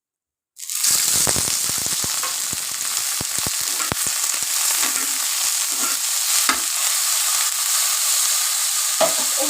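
Prawns hit hot oil with a sudden loud sizzle that holds steady, sharp pops and spatters breaking through now and then, close by with no voices.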